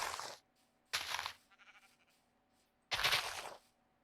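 Sheep in a video game bleat three times in short, loud, breathy cries separated by pauses. No talking can be heard.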